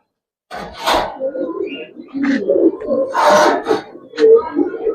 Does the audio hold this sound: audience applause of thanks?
no